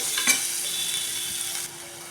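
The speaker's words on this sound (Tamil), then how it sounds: "நம்ம கட் பண்ணி வச்சுருக்கிற சின்ன வெங்காயத்தை போட்டுக்கலாம்" Chopped small shallots drop into hot oil in a pan for a rajma gravy, with a bright, continuous close sizzle, a brief stirring scrape near the start, then the frying eases to a softer hiss.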